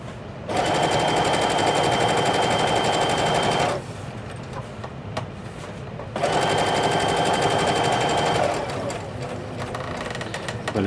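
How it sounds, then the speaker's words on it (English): A sewing machine stitches fabric pieces for bias tape at a quarter-inch seam allowance: two steady, loud, close runs of whirring stitching, each several seconds long, separated by a brief quieter pause. "So now I've got a 1/4 inch seam allowance and I'm sewing this down."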